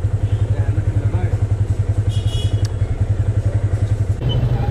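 A motorbike engine runs steadily with a strong low rhythmic pulse throughout, loud and close while riding, with a brief rise near the end.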